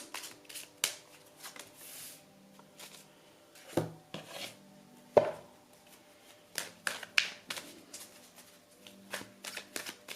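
Oracle cards shuffled by hand before a love tarot reading, bursts of soft riffling and rubbing rising and falling in irregular rounds, close and fairly quiet, with no voice over them.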